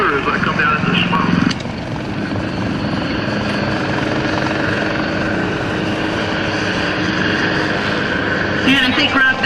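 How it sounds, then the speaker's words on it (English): A helicopter at an airshow descends into smoke, its rotor thumping and turbine whining in a steady loud drone, with a person talking over it throughout. "You can see the vortices on the rotor as I come down into the smoke."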